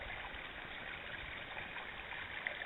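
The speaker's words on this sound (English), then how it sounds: "Artesian Well. Good to go, and a whole lot of flow." Water from an artesian well flows in a steady, soft, continuous rush, faint and even, with no voices.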